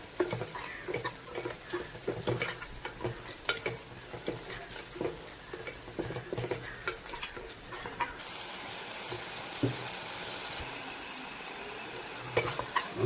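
A spoon stirs yoghurt chicken curry masala with garam masala, crushed chili and fresh chili, making soft wet scraping and tapping strokes in an irregular rhythm, close by and fairly quiet, with no talking.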